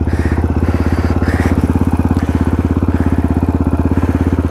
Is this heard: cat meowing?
no